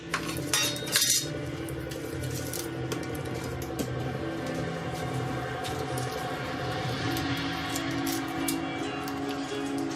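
Three good-sized clumps of garlic cut on a board: a steady run of close knife taps and clinks throughout, with a brief louder clatter near the start and a low background hum.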